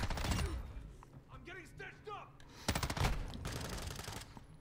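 Rapid automatic gunfire from a Basilisk in Modern Warfare 2, bursts of shots mixed with game effects, loud and close, with a voice and in-game chatter around it.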